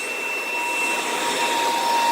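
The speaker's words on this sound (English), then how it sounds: "a HEPA vacuum" A HEPA vacuum fitted with a Pro Team soft brush on a carbon fiber extension pole cleans a popcorn ceiling after remodeling. It gives a loud, continuous rushing whine with a steady high tone, close by and alone.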